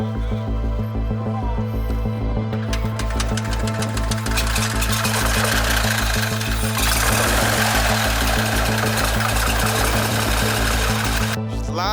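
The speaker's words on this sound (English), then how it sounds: "I was finally able to test the engine" A small airplane engine runs up in a hangar area after two months of repair work, a loud, steady droning roar with strong low harmonics that holds throughout and swells louder around the middle as the throttle is pushed.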